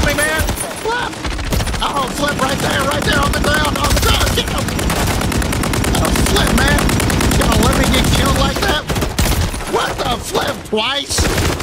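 Near-continuous rapid gunfire from Call of Duty Modern Warfare III, loud and dense automatic bursts running almost the whole time with short pauses, while voices talk over the shooting.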